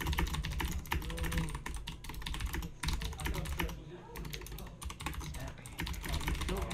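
Clicky computer keyboard typing runs steadily throughout in fast, close bursts during an online Magic: The Gathering Legacy match, with a few brief pauses and faint voices underneath.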